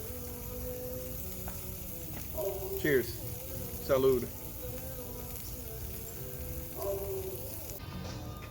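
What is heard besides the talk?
grit sticks frying on a griddle over a fire grill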